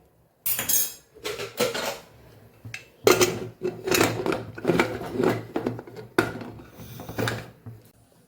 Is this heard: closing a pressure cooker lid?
yes